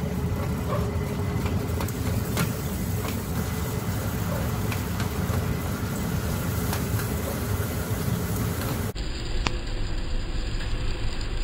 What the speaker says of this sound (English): The Milo continues to move from its storage bin into the mixer. Watch as the auger pushes it.